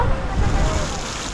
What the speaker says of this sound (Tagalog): Pero bumuhos yung malakas na ulan.